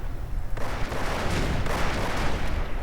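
A Stu 42 assault gun fires in a World War II strategy game, with dense booming cannon blasts and scattered gunfire crackling together in a busy, loud battle mix.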